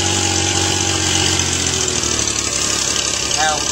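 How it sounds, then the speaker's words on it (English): A Honda CBX motorcycle engine runs on a test stand, loud and close, idling with a steady harmonic drone before the revs shift near the end. "I can check my full advance as I rev the engine up."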